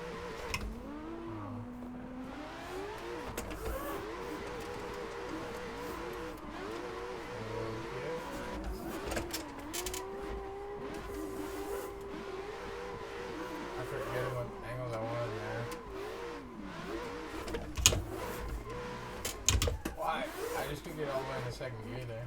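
Engine note of a hard-to-drive car in a video game rises and shifts through gears, revving up repeatedly with brief tire squeals, while a person talks over it throughout.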